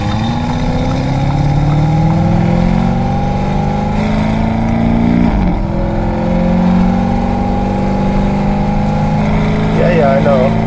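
A Lamborghini Urus fitted with a Novitec exhaust in Sport Corsa mode drones loudly at close range, its deep engine note rising and falling through revs while a voice talks over it.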